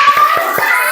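A classroom of children claps out a quick 'tepuk semangat' spirit chant in an Islamic religious education lesson, with several sharp, evenly spaced claps heard close by.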